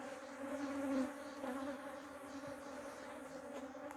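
Honey bees fly around an open hive while a colony is being split, a faint, steady buzzing drone with a slight swell near the first second, with no talk.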